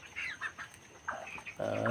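A few close, soft clucks and chirping calls from 31-day-old broiler chickens in a poultry farm at night, brief and uneven, with a louder burst of fowl noise at the end.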